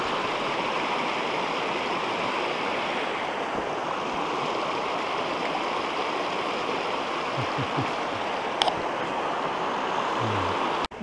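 The Baillon river waterfall on a loop hike from the Botrange nature centre pours in a steady, dense roar that fills the whole stretch, with no voices and only a brief knock near the end.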